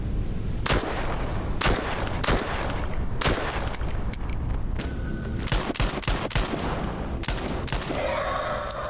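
Gunfire in the video game Into The Radius 2: a rapid series of sharp, loud shots, some in tight bursts and others spaced irregularly, heard alone with no talk.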